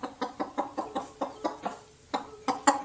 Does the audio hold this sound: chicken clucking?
yes